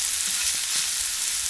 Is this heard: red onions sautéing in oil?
yes